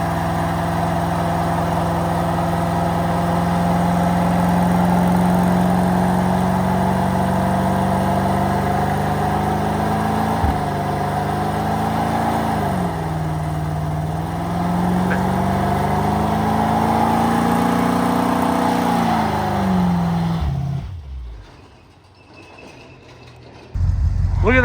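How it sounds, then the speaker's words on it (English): A part-time parts car doing a burnout, its engine roaring loud and steady at high revs for about twenty seconds, pitch wavering and dipping midway, before cutting off abruptly into near silence and a brief final burst. "I'm gonna go ahead and end with this burnout right now."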